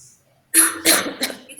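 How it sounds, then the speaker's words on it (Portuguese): A short silence, then a few rough coughs in quick succession, close and fairly loud, tapering off. "eu estou com um pouco de tosse"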